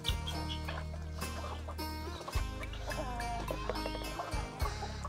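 Dong Tao chickens on a farm, a close flock giving rapid gurgling clucks and squawks in a busy overlapping chorus that keeps going, with a low steady hum underneath.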